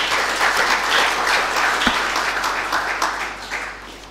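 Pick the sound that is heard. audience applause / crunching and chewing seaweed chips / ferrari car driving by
audience applause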